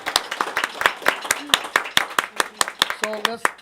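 A few people clap at a live local show, sparse, distinct hand claps in an uneven rhythm, with a voice talking over them near the end.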